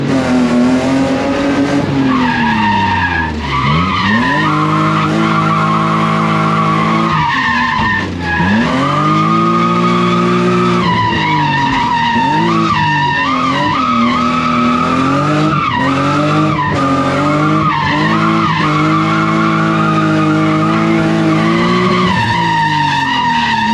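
A cheap, rusty BMW E36 drift car skids hard with its tires squealing in long, loud sweeping screeches over a constant roaring engine, the pitch swooping up and down as it slides without letup.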